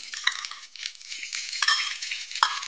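Caraway seeds roast in oil in a pan for an egg and soybean bhaji: soft sizzling runs beneath repeated close stirring scrapes and a few sharp clinks of a metal spoon against the pan, with no voices.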